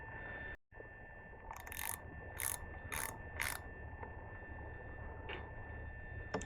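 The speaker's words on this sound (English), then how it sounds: "Filter looks pretty clean as well. So I'm just going to keep it as it is, screw this back on" A filter is screwed back onto a Tohatsu 40–50 hp four-stroke outboard during a service, giving a series of short ratcheting clicks in a quiet setting with no talk.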